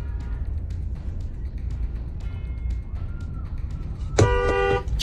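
A short car horn blast sounds near the end, loud over a low rumble of traffic and engine noise.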